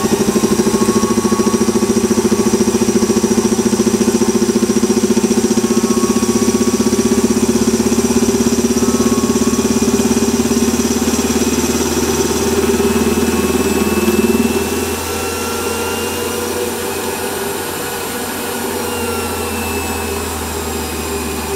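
Variable-speed metal lathe running steadily with a constant motor hum and whine that drops slightly in pitch and level partway through, continuing alone without talk.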